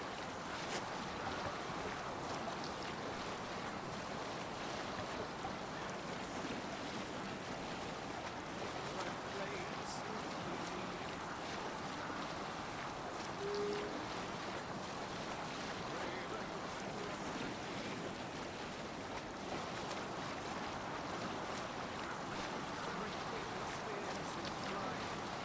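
A sailing boat glides over open water in Assassin's Creed Valhalla with a steady wash of waves and wind that stays constant and moderately loud throughout, and speech is faintly present.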